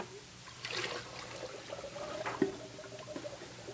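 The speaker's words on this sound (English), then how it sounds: "So we'll take the water and add it to the sugar." Water poured into sugar for a sangria sorbet, a soft trickling pour in a few short bursts over a quiet kitchen background, no talking.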